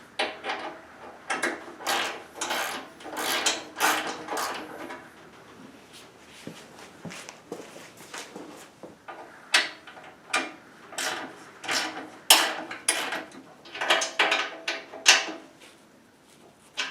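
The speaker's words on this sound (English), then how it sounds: "we'll just use the ratchet to get those going in properly" Ratchet turning bolts into place on the auger of a Honda HSS1332 snowblower, bursts of rapid metallic clicking separated by short pauses, close and moderately loud, with no talking.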